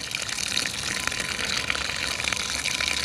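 Water drains steadily out of a water heater tank carrying sediment and calcium flakes, a continuous rushing gush with no pauses, close by and fairly loud.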